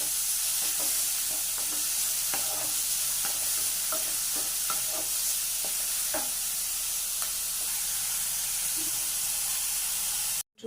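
Onion, green chili and curry leaves sizzle steadily in a pan alongside beetroot, a constant hiss broken by light spatula taps and scrapes, close by and without speech.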